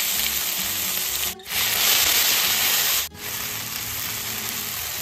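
Nigella seeds, ginger, garlic and raw green chillies hit hot oil with a loud, steady sizzle and crackle, broken by two brief dips in intensity, with no voices over the frying.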